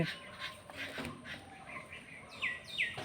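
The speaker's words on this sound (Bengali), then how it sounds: "আমার কাছে কাছে এসে কিচিরমিচির করছে বন্ধুরা আমার ভিডিওর মধ্যে এই পাখির আওয়াজ চলে যাচ্ছে প্রাকৃতিক পরিবেশ" Small birds chirp and tweet nearby in a natural garden setting, several quick high calls scattered across the moment with faint outdoor background.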